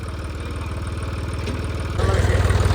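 A tractor engine chugs in a fast, even rhythm while pulling a stuck loader, then revs up and grows louder and heavier near the end.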